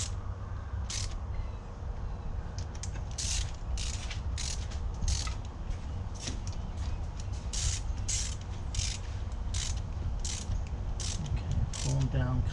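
Ratchet wrench snugging 12 mm bolts on a 2013 Hyundai Veloster with a misfire, repeated short bursts of clicking ratchet strokes in an irregular rhythm over low engine-bay background noise, up close.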